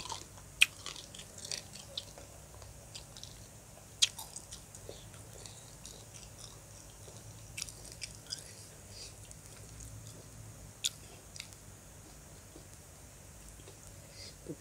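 Crispy pork rinds being chewed up close, with faint crunchy bites and soft mastication sounds scattered over a quiet background, a few sharper crunches standing out.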